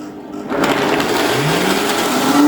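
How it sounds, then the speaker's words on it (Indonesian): A kitchen blender whirs as it blends frozen blueberries with milk, starting abruptly and running as a loud, steady, grinding motor whine for a couple of seconds before cutting off. "Oke, sekarang akan saya blender."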